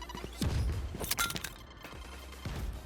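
A Raze grenade in Valorant on the Ascent map, a few sharp bursting pops and cracks, moderately loud and close, scattered over a couple of seconds with no talk.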